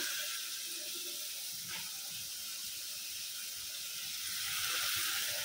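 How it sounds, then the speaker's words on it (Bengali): Water is poured into a pan of small-fish curry as it cooks on the stove, giving a steady rushing hiss that runs without a break for several seconds at close range. "আর এদিক দিয়ে যে তরকারি জলটাও দিয়ে দিচ্ছি।"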